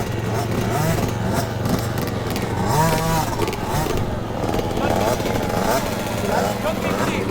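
A 55cc kids' motocross motorcycle engine buzzes and revs at a fiesta race, its whine rising and falling steadily under loud crowd chatter and voices nearby.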